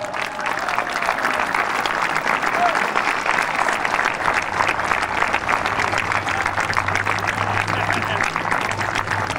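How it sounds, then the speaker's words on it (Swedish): A crowd applauding at a Civil War reenactment of the Battle of Pea Ridge 1862, sustained even clapping for about nine seconds at a steady level, with faint background hum. "Ge dem en varm applåd!"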